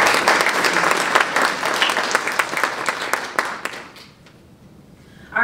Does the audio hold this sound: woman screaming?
no